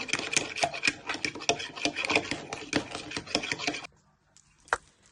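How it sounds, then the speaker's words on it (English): Eggs being whisked with a fork in a bowl for red velvet brownie batter, a rapid rhythmic clatter of quick scraping taps, close and loud, stopping abruptly near the end followed by one final tap. "Give these a good whisk for a minute or two."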